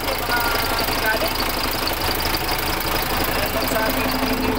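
An overhauled MAN diesel engine runs steadily after start-up, a dense continuous mechanical clatter with knocking texture and a constant drone, loud and close throughout with no pauses.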